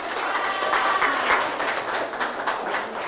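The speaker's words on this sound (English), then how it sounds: "Applause." Audience applause, a loud, continuous crowd of clapping hands that holds at an even level for a few seconds with no speech over it.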